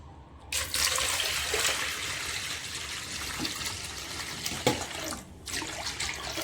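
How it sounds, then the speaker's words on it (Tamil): Water runs and splashes steadily into a cooking pot, a continuous close hiss with a few brief clinks, stopping briefly near the end. "இனி இதிலேக்கு தேவையான தண்ணி ஆட் பண்ணலாம்"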